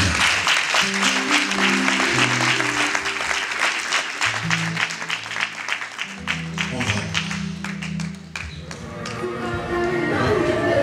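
Congregation in a church clapping steadily throughout, the dense applause running under music with a low bass line and voices, loud and continuous from start to end.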